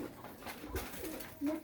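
Pigeons coo softly over a low, steady background, with a couple of brief, louder coos near the end; no clear wingbeats stand out.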